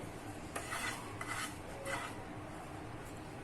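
A spoon scrapes and spreads sticky raw mango candy mixture across a plate, giving a few soft scraping strokes with light clinks, fairly quiet and close, with no talking.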